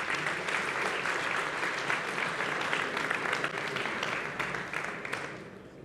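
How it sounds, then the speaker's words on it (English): A conference audience at a programming contest's closing ceremony gives a sustained round of applause, a dense, even wash of clapping that tapers off in the final moments. "Please give them a round of applause to JetBrains."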